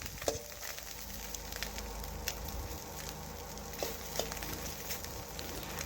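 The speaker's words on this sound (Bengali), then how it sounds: "এইভাবে আমি একটি একটি করে উল্টে নিচ্ছি, তাহলে দুই পাশেই ভালোভাবে ভাজা হয়ে যাবে।" Small fish, morola, being fried in a pan, a faint, steady sizzle with soft crackles and a few light taps as the pieces are turned one by one, no talking.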